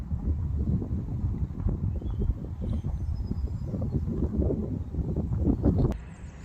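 Wind on a cold, rainy day buffets the microphone close up, a continuous low rumbling roar with gusty fluctuations.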